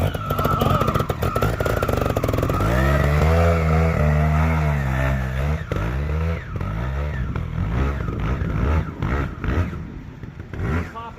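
A trials motorcycle climbs in fourth gear on dirt at a trials training center, its engine loud and near with rising and falling revs, while the rear tire spins and kicks dirt, heard as scattered pops and clatter.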